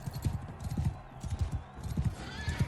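Horse hooves clip-clop steadily in a rhythmic gallop while riding through desert lands in the medieval combat game Mount & Blade II: Bannerlord, the repeated thuds close and prominent with occasional whinnies mixed in.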